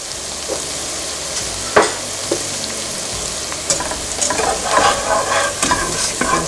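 Flour being stirred into a hot, sizzling pan for a scratch-made Thanksgiving dinner: steady frying sizzle with scraping spoon strokes, a few sharper clinks, and the stirring growing busier toward the end, no talking.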